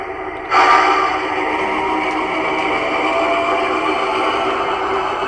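A model train locomotive's Zimo sound decoder plays a curve-squeal effect on a customized USA Trains engine: a sudden steady high metallic squeal over a low hum, sustained and fairly faint.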